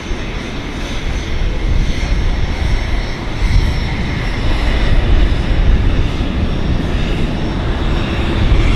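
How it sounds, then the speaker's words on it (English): A Beechcraft 1900D twin-turboprop medevac plane at Vancouver airport gives a loud, steady roaring drone that holds unbroken throughout, with broadband engine and prop noise and no talk. "So this Beach 1900D is Vancouver based quite often and does Medevac work here."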